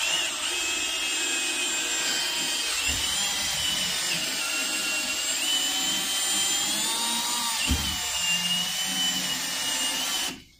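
A drill spins a roll pipe groover on the final pass cutting a groove into pipe, giving a steady whining, rubbing drone that runs continuously with a couple of brief low thumps before cutting off at the end.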